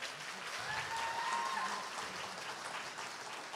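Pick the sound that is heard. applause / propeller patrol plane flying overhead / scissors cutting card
applause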